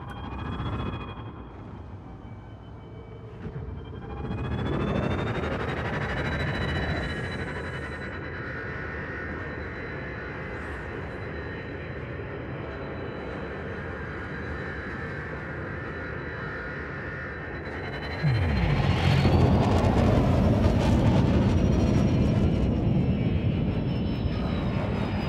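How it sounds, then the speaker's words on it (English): Spaceship engines in Elite Dangerous engage after launch with a sustained, loud whining hum that rises in pitch, then a heavier roaring surge toward the end. "Ship released. Engines engaged."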